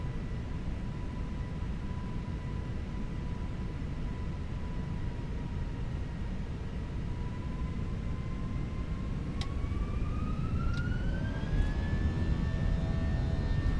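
Airbus A319 jet engines spool up for takeoff in Microsoft Flight Simulator 2024, a steady loud roar with a rising whine that climbs in pitch near the end, alone without talk.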